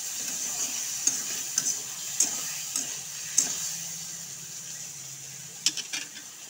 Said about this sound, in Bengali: দিয়ে অল্প নাড়াচাড়া করব।